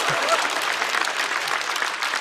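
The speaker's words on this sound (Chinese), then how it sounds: "可以鼓掌。" An audience at a stand-up comedy show breaks into brief, dense applause, a steady wash of clapping from a crowd lasting a couple of seconds.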